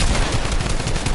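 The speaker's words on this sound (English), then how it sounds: "Nah, the kid shot me through my wall!" A dense burst of rapid gunfire in a video game, loud and close, filling the whole short moment with harsh crackling shots.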